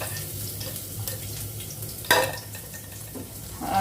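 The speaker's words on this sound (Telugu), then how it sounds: "మీడియం సైజ్ ఉల్లిపాయ ఒకటి ఇట్లా బారుగా చీలికల్లాగా కట్ చేసుకొని ఇదే ఆయిల్లో ఫ్రై చేసుకోవాలి." Medium onions cut into long slices fry in oil for prawn biryani, a close, continuous sizzle under occasional stirring scrapes and one sharper clatter of utensil on pan, with no talk.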